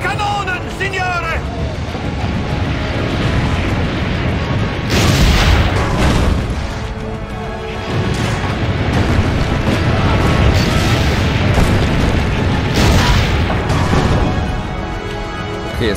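Cannon fire booms during a battle in Assassin's Creed Brotherhood, with heavy blasts and crashes rising over dense game noise and shouting voices.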